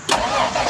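A 1962 Chevrolet Corvair engine cranks and catches in a short, loud burst, settling into a steady mid-pitched run.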